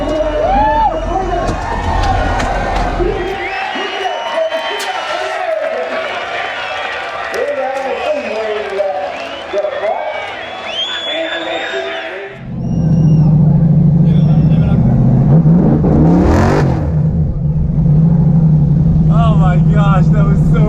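A $100,000 burnout car doing a burnout, heavy engine roar swelling to a loud sustained rev with tire squeal, under excited shouting and talk from nearby people.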